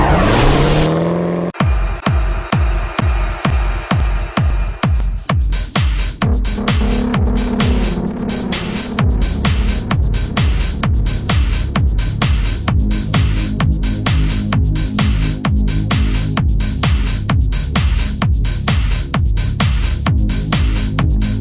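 A 2010 BMW 5 Series with an inline six-cylinder engine runs steadily and loudly for the whole stretch. A rapid, regular throbbing pulse sits over a continuous engine drone, with no talking.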